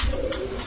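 Rampuri pigeons at a pigeon farm give a short, low, throaty coo, close and fairly loud, with no other sound around it.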